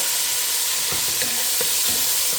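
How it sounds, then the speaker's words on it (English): Chopped tomato and onions sizzling in hot oil in a pan for a rice dish, a loud continuous frying hiss with a few soft stirring knocks and crackles, and no talking. "I'm gonna put the tomato and the onions"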